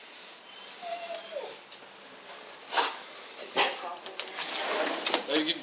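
Puppies give faint, thin whimpering whines outdoors, half-buried under rustling, footsteps and handling noise, with voices nearby.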